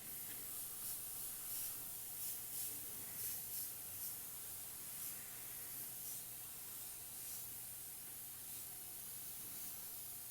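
Airbrush spraying red water-based paint straight onto a panel through a fire template, a continuous soft hiss that pulses in short bursts at first and then settles into a steady, fairly quiet spray.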